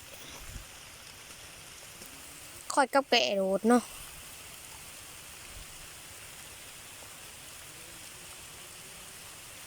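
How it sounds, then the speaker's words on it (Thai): Steady rain falls in southern Thailand during the rice-farming season, a constant broadband hiss that runs throughout, with someone speaking briefly over it near the middle. "ฝนตกเนาะ"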